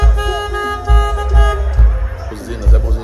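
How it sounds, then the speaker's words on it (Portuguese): Vehicle horns toot in steady pulsing bursts over a deep rumbling engine, loud and close, while voices chatter underneath during a late-night trip home. "Buzinas, é buzina."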